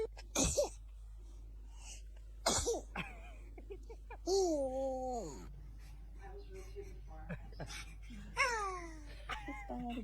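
A baby sneezes twice in quick succession near the start, sharp bursts amid an adult woman's reactions and laughter, with cooing and babbling sounds continuing afterward.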